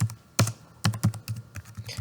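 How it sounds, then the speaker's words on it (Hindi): Keystrokes on a computer keyboard as a short refill request message is typed, landing in irregular clusters of close, crisp clicks with brief pauses between them and no voices. "नीचे मैसेज टाइप कर दूँगा रीफ़िल प्लीज़"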